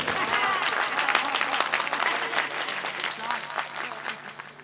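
Audience at a ghazal mushaira breaking into loud, sustained applause, dense clapping continuing for several seconds and slowly easing off.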